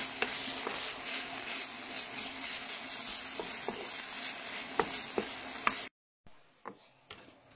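Bell peppers frying in a pan give a steady close-up sizzle with sharp crackles and occasional utensil ticks, cutting out briefly near the end before resuming more quietly.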